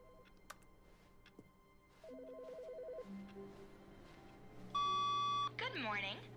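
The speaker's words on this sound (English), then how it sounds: "Oh, I hear a phone." A phone rings in The Stanley Parable video game, a short burst of electronic ringing tones following quieter game sounds and faint beeps, close and fairly loud.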